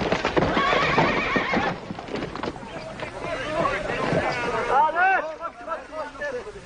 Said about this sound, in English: That's what I call riding a horse.